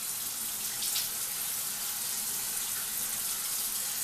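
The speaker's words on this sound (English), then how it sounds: "So what I'm going to do now is I'm going to just wet my face." Bathroom sink tap running steadily at a constant close hiss of flowing water while a face is wetted, with no voices.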